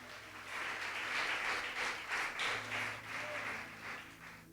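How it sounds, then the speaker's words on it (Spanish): A church congregation claps together during a sermon, a soft, steady patter of many hands that swells and fades slightly, heard from a distance with little else over it. "Levante sus manos y aplaude el nombre del Señor."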